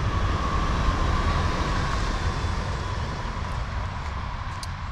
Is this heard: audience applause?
no